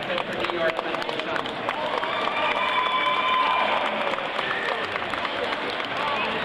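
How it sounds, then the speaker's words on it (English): Audience applause and cheering at a New York Methodist Hospital benefit evening, a continuous wash of clapping with crowd shouts and whoops layered over it, sustained and fairly loud throughout. "Let's give Dr. Bundy a big round of applause."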